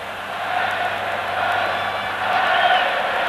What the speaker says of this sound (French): le public est content, le public applaudit Jean Tigana